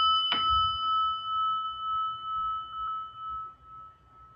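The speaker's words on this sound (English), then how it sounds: "and the prayer bell." A prayer bell struck once indoors in an office, giving a clear bright strike followed by a long, steady ringing tone that slowly fades over several seconds with no talk.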